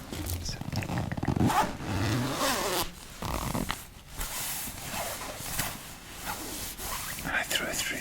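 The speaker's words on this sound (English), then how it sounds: "So this is a zip." A suitcase zip is pulled open close up in a quiet room, with a long raspy zipping run followed by softer handling and rustling of the case.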